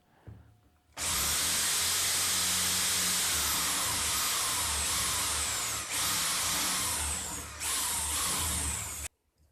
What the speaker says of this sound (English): Remember that the drill bit has to be at least the same size as the tuner